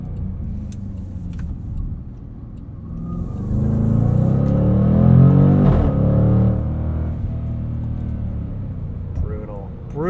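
A 2021 Jaguar F-Pace SVR accelerating on the road, its engine rumble swelling to a deep, loud roar midway before easing off, with someone talking over the drive.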